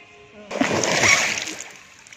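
Children swimming in a pool make a loud, close burst of water splashing lasting about a second, with a voice heard beforehand.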